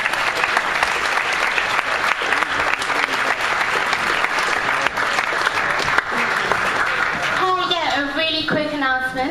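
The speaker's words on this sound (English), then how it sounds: "huge applause to Kirsty." Strong, continuous audience applause at a Y Combinator speaker series Q&A event lasts about seven seconds, then a speaking voice takes over as the clapping fades.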